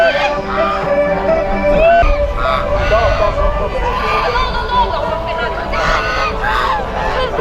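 Geese honking repeatedly in a busy outdoor setting, with a steady background of crowd babble and people talking throughout.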